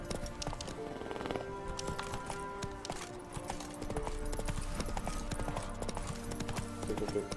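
Geralt's horse Roach in The Witcher 3, with hooves clip-clopping steadily at a trotting pace throughout and background music and game sounds underneath.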